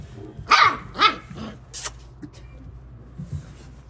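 A large Kangal dog barks sharply twice, then lets out a few lower growls and grumbles, fairly close, with no talking.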